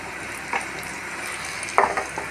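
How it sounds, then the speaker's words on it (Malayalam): Brinjal slices frying in a pan give a soft steady sizzle, with two brief louder crackling spurts as the pieces shift in the hot oil. "നമ്മൾ വറുക്കാൻ വെച്ച വഴുതനങ്ങ ഒക്കെ നന്നായിട്ട് ഫ്രൈ ആയിട്ടുണ്ട്"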